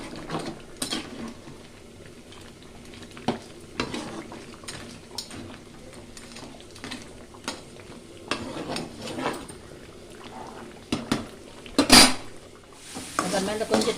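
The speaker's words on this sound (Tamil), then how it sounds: "கொதிச்சிச்சு பார்த்தீங்களா கலையிட்டு திருப்பி மூடலாம் நல்லா அது கிரேவியாக வரும்" Crab gravy at a boil in a pot, stirred with a metal utensil for a home-cooked non-vegetarian Sunday feast: repeated scraping and clinking against the pot over a soft bubbling sizzle, with one sharp bright clank near the end.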